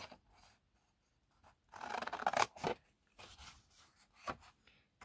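Scissors snipping through paper or card while making a 3D paper camera, short quiet cuts followed by a longer run of cutting, close and faint, with no talk.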